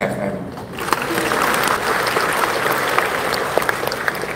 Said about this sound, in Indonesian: Tepuk tangan untuk CFM.